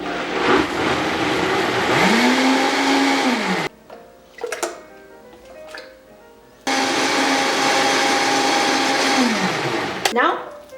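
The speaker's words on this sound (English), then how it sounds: "So I'm going to blend the tomatoes and we're gonna start making our tomato sauce or marinara sauce." Kitchen blender pureeing canned San Marzano tomatoes for marinara sauce, two loud whirring bursts with a rising start and falling spin-down, separated by a pause of clinking and handling noises.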